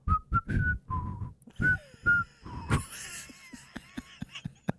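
A melody whistled in short phrases, close and clear, followed by breathy laughter and chuckling.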